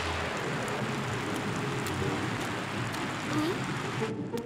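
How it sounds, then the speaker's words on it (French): Heavy downpour in a cartoon, a dense, steady hiss of rain that fills the whole scene at an even level and cuts off sharply right at the end. "Couvre-toi, Martin, il pleut à verse."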